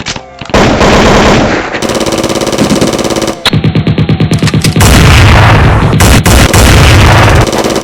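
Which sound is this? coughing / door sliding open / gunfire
gunfire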